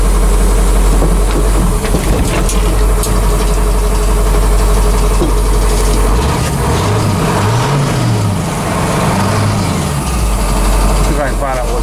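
An old GMC 6000 truck engine idles steadily at its first start in years, a loud continuous rumble with a fan shroud rubbing nearby, while people talk over it.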